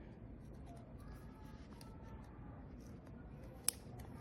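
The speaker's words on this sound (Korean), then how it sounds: "싹둑 이렇게 잘라줄 거고요." Scissors snip once through thread while a dreamcatcher is being made, a single sharp close cut standing out over low room noise.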